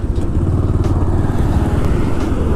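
A motorcycle on a solo highway ride, recorded close up by a GoPro, gives a loud, continuous engine drone with a steady pulsing rumble.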